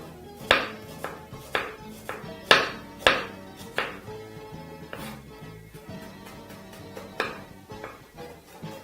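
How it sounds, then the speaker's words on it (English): Knife strikes a cutting board in a series of sharp, uneven chops while finely chopping red onions, close by, with ringing clinks between some strokes. "by chopping our onions very finely."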